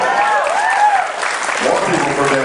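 Crowd applause for Ben Folds at a comic con panel, a steady wash of clapping that fills the room, with voices and cheers mixed through it.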